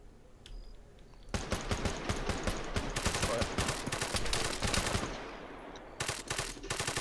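Automatic gunfire in the Arma 3 military game, rapid bursts of machine-gun shots in sustained volleys with a short lull, then another burst, close and loud.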